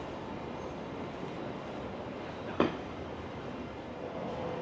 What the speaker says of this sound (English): we have had many light rail trains coming up and down.